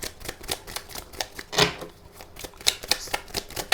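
A new deck of tarot cards is shuffled up close, giving rapid rhythmic flicks and riffles with one fuller burst in the middle, with no talking.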